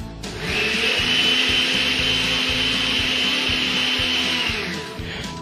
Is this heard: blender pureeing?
yes